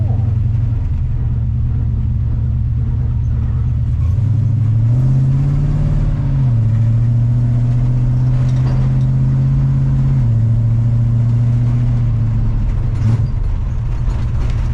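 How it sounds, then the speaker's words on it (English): A Chevrolet C10 truck with a big-block 454 engine runs and drives, its loud low engine rumble droning steadily and rising in pitch mid-clip before settling back, with no voices over it. "I can't believe it runs and drives right now."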